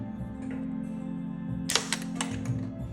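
Hard wire snaps as it is cut for bumper irons, a few sharp close clicks and cracks over a steady low hum.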